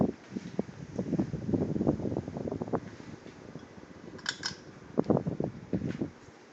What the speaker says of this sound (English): It's a very nice looking ceiling fan